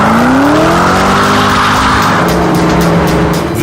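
A Ford GT supercar screams past with a loud engine roar and rising pitch, and tire squeal rides over it, close and continuous for a few seconds without any voices.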